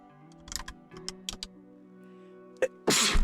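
A few sharp keyboard clicks and taps, then a single loud, breathy sneeze bursts out close by at the end.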